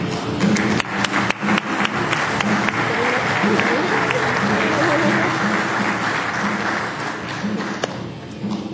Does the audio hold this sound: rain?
no